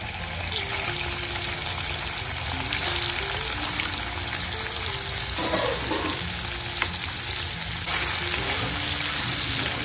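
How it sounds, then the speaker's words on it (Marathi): Paneer browning in a pan sizzles and fries steadily, a continuous close hiss with faint stirring, no voices. "पनीर ब्राऊन करून घेणार आहोत"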